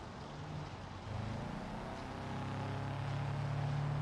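A steady low engine rumble with a grinding, dragging drone underneath, continuous and fairly loud, with no voices, from a vehicle in the BeamNG.drive video game.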